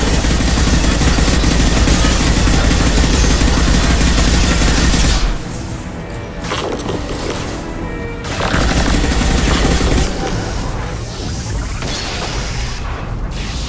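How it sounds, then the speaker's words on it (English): Loud explosions and crashing blasts from the Mass Effect 2 video game, a sustained roaring barrage that cuts out abruptly, then returns as rumbling debris bursts and thuds with no talk. "Explosion in main engineering."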